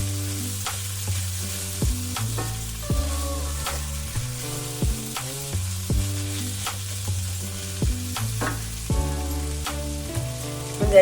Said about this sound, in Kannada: ಒಂದು 2 ನಿಮಿಷ ಅದ್ರ ಜೊತೆ ಹೀಗೆ ಅದು ಫ್ರೈ ಆಗಲಿ